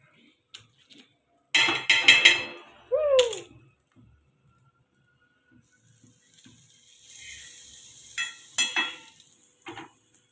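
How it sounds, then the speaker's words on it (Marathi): Pav bread goes onto a buttered tawa to toast, giving short bursts of sizzling and scraping stirs separated by quiet gaps, with a brief chirp in the background. "याच्यामध्येच आता हे पाव वगैरे सगळे टाकून घेणार आहे"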